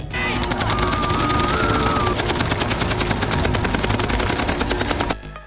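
Sustained automatic gunfire from a film scene: rapid, loud machine-gun bursts fire almost without pause for about five seconds before cutting off abruptly.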